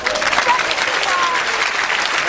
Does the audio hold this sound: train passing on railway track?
no